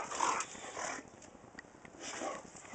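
Several dogs whimper and yip in the snow, soft high whines coming in short repeated bursts, fairly close and gentle, with no talking over them.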